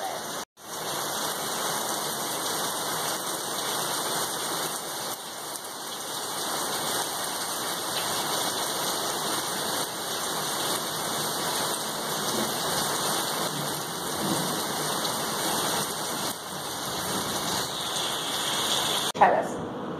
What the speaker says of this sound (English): I just wanted to come out and enjoy the rain for a little bit.